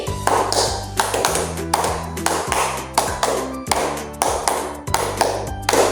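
Classroom claps in a teaching practice session: groups of five sharp, rhythmic claps repeated three times, loud and close, with a steady beat over a low musical backing.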